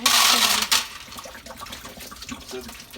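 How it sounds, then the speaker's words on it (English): A canteen is unscrewed and its contents, water with reusable BBs, are dumped into a strainer in a sink, a loud splashing rush up front fading into lighter trickles and rattles. "unscrew it and just dump it in the strainer"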